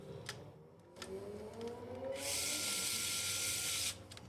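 A power tool drives bolts to secure the transmission of a TRX4M RC crawler, with a few short whirring bursts and then a longer sustained high buzz, close and alone with no talk.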